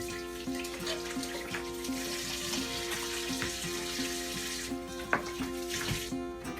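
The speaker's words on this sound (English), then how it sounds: "let me wash my hands quickly" Tap water runs steadily as someone washes their hands at a kitchen sink. A continuous close hiss of flowing water carries on, with small splashes and changes as the hands move beneath it.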